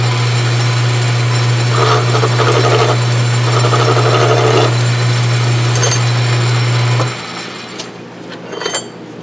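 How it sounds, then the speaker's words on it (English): Close, loud filing on the edge of a suspension bushing for a Mazda B2200's rear suspension, heard over a steady machine hum that stops near the end, after which a few faint clicks follow. "last thing I'm going to do is just hit the edge with a file"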